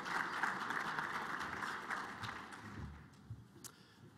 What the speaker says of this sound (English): Let's give them a big round of applause to get us started.